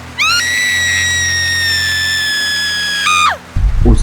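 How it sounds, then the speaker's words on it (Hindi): A girl lets out a long, piercing scream of fear, sustained and shrill for about three seconds before breaking off, followed by a brief low thump. "अचानक उस आदमी ने अपना लेफ्ट हैंड ऊपर किया और लड़की की डर से चीखने लगी।"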